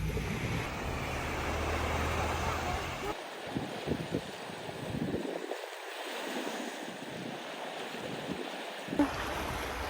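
Sea waves and wash during a sunset swim off Naxos, a steady close rushing and splashing with wind buffeting the microphone, briefly dipping as the mic goes near or under the water.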